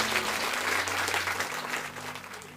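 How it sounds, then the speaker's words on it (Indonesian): A church congregation breaks into loud, sustained applause that fills the room, dense clapping continuing steadily throughout before easing slightly at the end. "tepuk tangan yang meriah buat Tuhan."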